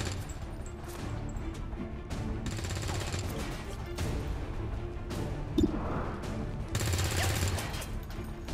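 Automatic suppressing fire in the video game XCOM 2 rattles as dense, continuous bursts of gunfire with sharp impacts and crashes throughout, loud and close.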